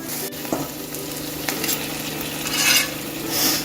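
Crab roast frying in a pan, a steady loud sizzle with scraping stirs and occasional clinks of the spoon against the pan, no voices.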